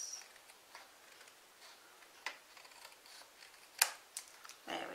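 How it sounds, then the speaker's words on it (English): Cardstock for a handmade umbrella greeting card is trimmed to size, with quiet scattered snips and a few sharp clicks from the cutting tool close by in a calm room. "I will just trim that to match."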